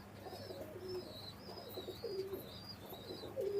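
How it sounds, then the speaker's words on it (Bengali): Pakistani high-flying pigeons coo softly in a loose series of low, throaty calls, with faint chirps and a steady background hum around them. "কবুতর ছেড়ে দেখাচ্ছি দেখেন"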